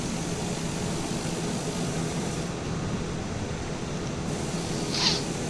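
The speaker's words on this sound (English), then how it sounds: "Currently taxiing to the runway." A TBM930 turboprop airplane taxiing to the runway, heard from inside the cockpit as a steady, loud broadband engine and propeller drone with no breaks, one faint high blip near the end.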